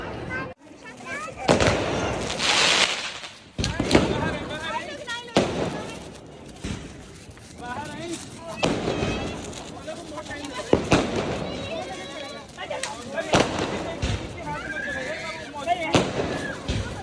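Rapid crackling bursts of a firecracker string pop and bang loudly in long volleys outdoors during Diwali, with people shouting and talking over the din.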